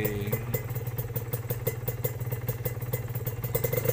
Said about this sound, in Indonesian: Untuk NSR memang 2 tak sangat berbeda dari segi suara